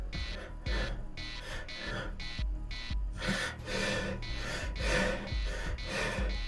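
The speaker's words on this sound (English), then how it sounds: "I'm too cold. Is that why I'm puffing and panting?" A person puffs and pants in the cold, giving a run of heavy, rhythmic breaths and gasps at close range, loud and unbroken, with no speech.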